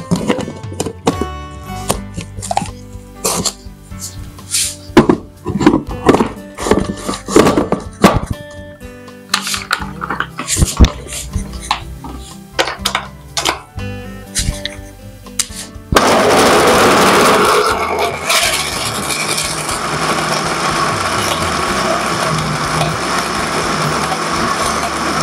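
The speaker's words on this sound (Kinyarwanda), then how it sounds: "Hanyuma tugiye rero gusya." Watermelon with water being ground in a blender, starting with choppy, irregular clattering bursts that then settle into a loud, steady whirring roar, with no talking.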